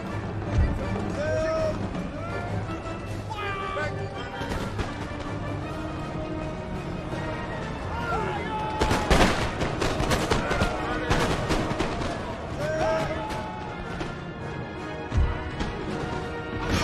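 Musket volleys and cannon fire boom in an Empire: Total War battle, with scattered cracks and a heavy burst of shots partway through over a constant battlefield din.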